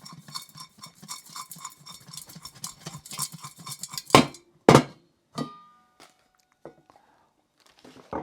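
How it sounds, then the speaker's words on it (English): A lidded container of energy drink powder is shaken hard, giving rapid rhythmic rattling and sloshing for several seconds, then a few loud separate knocks and thuds before quiet. "we're going to put the lid on and just give it a really good shake to literally mix it all up"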